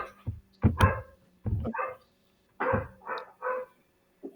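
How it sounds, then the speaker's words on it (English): A dog barks in the background of a home web design lesson, a few scattered yips and woofs in short bursts separated by quiet gaps, fairly faint and with no talk over them. "I don't know why my dog is making a lot of noise in the background."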